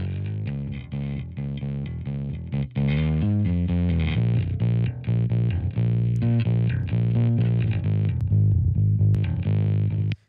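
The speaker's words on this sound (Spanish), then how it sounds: "vamos a escuchar ahora qué hace esta distorsión, pero solamente en solo" Soloed electric bass run through a SansAmp distortion plugin in Pro Tools, a gritty, overdriven bass line playing a continuous riff of sustained and rhythmic notes, loud and alone with no talking.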